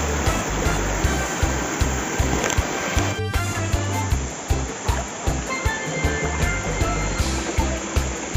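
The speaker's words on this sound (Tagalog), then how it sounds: "nakikita mo ay isang napakaganda at napakataas na waterfalls" Steady broadband rush of a tall waterfall deep in a mountain forest, a constant roar of falling water with small splashy fluctuations, loud and close throughout with no voices.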